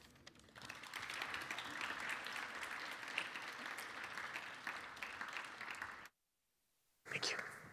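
Audience applause welcoming Arun Gupta to the stage at a Purdue Engineering Frontier lecture: sustained, dense clapping that fills the hall for about six seconds, a brief silent break, then the applause returns loudly.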